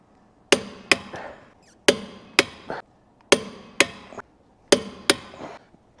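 Lug nuts on a 2022 Nissan Frontier being fastened with a wrench: sharp metallic clanks and knocks in paired bursts, repeated four times at close range with no talking.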